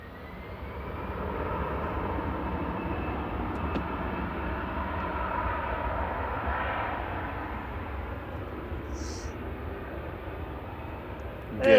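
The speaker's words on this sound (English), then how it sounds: "Airbus A320-200 with flight 2087 going to be departing" An Airbus A320-200 departing from Manchester Airport, a steady distant jet engine roar holding for several seconds before slowly fading, with no talk over it.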